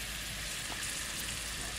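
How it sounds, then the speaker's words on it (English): Pineapple grilling on a Cadac Safari Chef 2 BBQ turned down low gives off a continuous, even sizzle, crackling steadily throughout. "Because it's still going sizzle, sizzle, sizzle."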